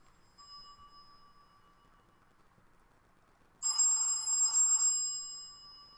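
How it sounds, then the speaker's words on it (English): A telephone rings with a bright electronic trill in one sustained burst after a faint steady tone, fairly loud and close, with no talk over it. "Oh, phone calls. Why do people call me when I'm shooting videos?"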